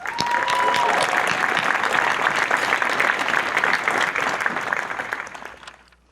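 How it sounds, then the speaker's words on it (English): Guests at a charity gala give sustained, loud applause that slowly fades out at the end, with a brief tone audible near the start. "Let's give them a round of applause."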